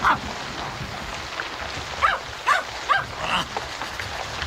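A dog barks in a short run of sharp, fairly loud yelps, with one early bark and then a quick cluster of four, set over a steady hiss like storm rain outside a tent.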